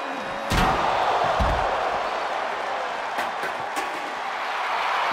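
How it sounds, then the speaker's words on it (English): A heavy slam rings out in a wrestling arena as ambulance doors are shut during a John Cena ambulance match: one sharp bang, a second thud, then a steady crowd roar with a few lighter knocks. "Get them in the ambulance and slam the doors."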